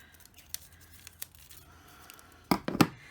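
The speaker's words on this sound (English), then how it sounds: "Just peel off enough to cover that paper" Paper backing is peeled off washi tape for a papercraft border, with a few faint ticks and then two short, close ripping strips near the end.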